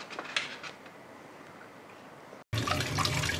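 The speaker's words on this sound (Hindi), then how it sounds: "करेलों को हम धो रहे हैं।" Stuffed bitter gourds washed under running water in a kitchen: a soft, steady trickle with a few faint splashes, then a louder, closer gush of water after a brief break.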